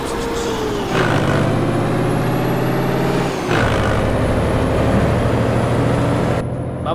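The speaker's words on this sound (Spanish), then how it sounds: "Me gusta ese freno. Díganme qué es lo que suena así" A truck in American Truck Simulator lets out loud air brake hisses, with a steady engine rumble underneath, a drop in the drone, then another release and idle.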